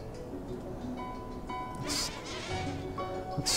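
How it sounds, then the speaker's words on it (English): Bees buzz in the video game Anachronox, a continuous insect drone with wavering tones, broken by brief hissy game effects. "More bees!"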